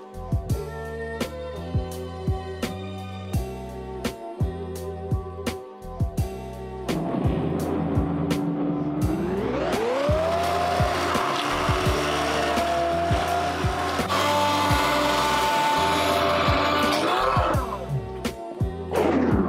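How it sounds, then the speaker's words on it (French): An immersion blender purees pumpkin soup, starting with intermittent clattering pulses, then a loud steady whirring that rises in pitch and holds, before dropping back to brief bursts; no talking. "À l'aide d'un mixeur plongeant, mixez le tout ensemble."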